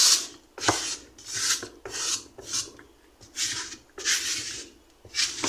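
A grout float smearing and pressing grout across a ceramic subway tile kitchen backsplash, a series of rhythmic rasping scrapes, close and fairly loud, with brief pauses between strokes.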